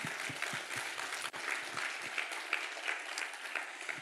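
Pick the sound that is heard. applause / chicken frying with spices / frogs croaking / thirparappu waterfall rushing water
applause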